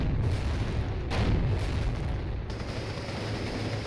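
Su-76 self-propelled guns fire on a building in the Company of Heroes Eastern Front mod during a 2v2 battle, with heavy booming blasts layered over a constant low battlefield rumble and no one speaking.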